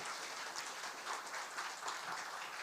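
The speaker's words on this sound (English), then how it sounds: "a big round of applause for Shell Malaysia" A crowd at the Shell LiveWIRE Sarawak 2022 award ceremony applauds for Shell Malaysia, a dense, even rush of clapping heard from some distance, sustained without pause and with no talk over it.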